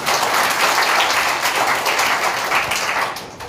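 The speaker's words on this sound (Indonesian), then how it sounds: "Yang percaya boleh tepuk tangan buat Tuhan." A church congregation claps hands together, a loud, dense wash of applause that holds steady before easing off at the end.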